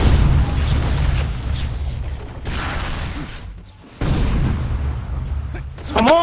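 Booming rocket explosions in a capture-the-flag video game match, several loud blasts with a brief lull in the middle and a burst of chaotic sound at the end.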